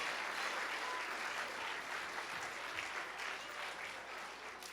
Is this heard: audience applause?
yes